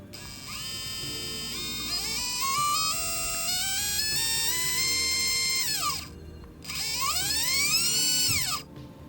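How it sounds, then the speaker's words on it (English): Brushless motors on an FPV drone being diagnosed for twitching spin up in turn: a rising whine that steps upward in pitch, holds high, then winds down, followed by a second quick spin-up and spin-down, loud and close. "So you're just gonna spin the motor up, spin up one."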